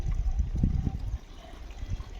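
Water gurgling and flowing at the Theertharameshwara temple spring, a soft low splashing trickle that surges briefly and then settles into a quieter, continuous flow, fairly close with no voices.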